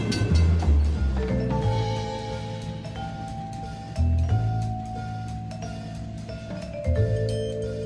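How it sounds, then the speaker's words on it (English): A train departure effect opens a finance radio show, a steady rolling clatter with rhythmic clicks and low rumbling surges that swell at intervals, loud and alone with no talking. "hop aboard, buckle up, because the train is departing the station"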